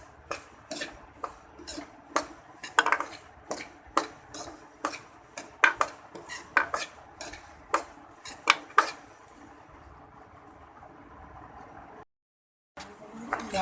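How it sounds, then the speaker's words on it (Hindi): A ladle scrapes and knocks against a pan as semolina roasts, producing a steady run of sharp metallic clinks and taps, close and distinct, that thins out and stops near the end. "तो मसलसल ऐसे ही हम इसके अंदर कड़छी या चम्मच वगैरह को चलाते रहेंगे।"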